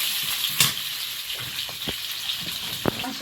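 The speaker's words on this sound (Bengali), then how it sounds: "আলুটা এদিকে ভাজা দিলাম" Potatoes frying in a pan while cooking rooster meat outdoors, a steady hiss of sizzling oil with scattered pops and crackles throughout.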